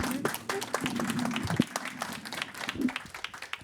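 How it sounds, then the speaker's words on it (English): An audience applauds at a talk on water as an investment, steady clapping that fills the clip at moderate volume. "Let's have an applause."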